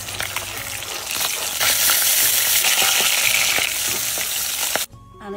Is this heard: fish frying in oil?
yes